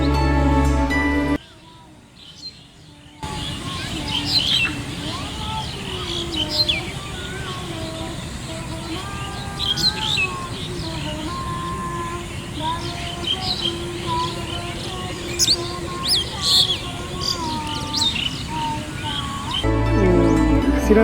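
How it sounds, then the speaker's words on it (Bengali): Birds chirping and calling in a Bangladeshi village in late afternoon, including mynas and oriental magpie-robins, with many short overlapping calls repeating steadily throughout at moderate distance, and a brief quiet gap near the start. "নৌকাতে বসে আমাদের জাতীয় পাখি দোয়েল দিনের শেষ অংশে সময় পার করছে"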